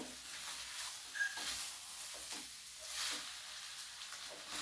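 Soybean pispas being stirred in a frying pan, a soft hiss of sizzling with quiet, intermittent scraping strokes, faint and close, no talking.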